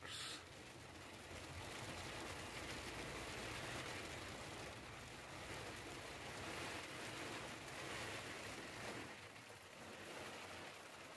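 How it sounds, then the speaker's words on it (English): Hail pelts a camper van roof in a dense, continuous drumming roar that holds steady and fairly quiet throughout, with no clear talk. "Hailstorm, folks."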